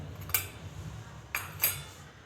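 A spoon clinks against a metal bowl or utensil three times while red chili powder is added to sabudana-potato papad dough in a home kitchen, sharp close taps over a low hum.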